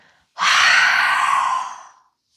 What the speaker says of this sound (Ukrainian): Давайте з вами спробуємо глибокий вдих. Глибокий видих.